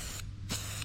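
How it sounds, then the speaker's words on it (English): Two short hissing bursts of an aerosol spray can, close and sharp, separated by a brief pause. "what we're going to do is a bit of spray"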